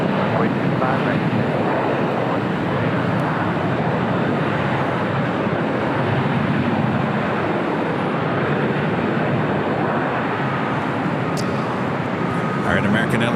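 An airliner roars down runway 25 right at LAX on takeoff, a loud, steady broadband engine rumble that holds throughout at close range, with faint radio chatter underneath.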